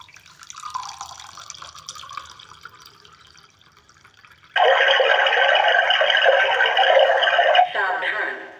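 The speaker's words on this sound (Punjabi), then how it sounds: "ਇਹ ਆਪਾਂ ਮੱਗ ਨਾਲ ਪਾਣੀ ਪਾਵਾਂਗੇ ਚੈੱਕ ਕਰਨ ਵਾਸਤੇ ਜੀ" Water poured from a mug trickles faintly at first, then a strong, steady pour splashes loudly for a few seconds before tapering off near the end.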